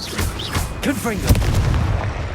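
A blasting spell goes off in a fantasy wizard video game, a deep boom with a sharp crack near the middle, mixed with swooshing spell effects and a voice shouting.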